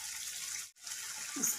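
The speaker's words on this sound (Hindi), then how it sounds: "हम इसमें थोड़ा सा पानी डाल लेंगे।" Water pours and splashes into a pan of ground gravy for a makhana curry in a short gushing stream, broken by a brief pause, then pours again.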